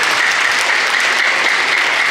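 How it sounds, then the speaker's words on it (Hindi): Studio audience at a comedy TV show bursting into loud, dense applause, a close, steady roar of many hands clapping with no speech over it. "एक बार ज़ोरदार तालियां इनके लिए होनी चाहिए"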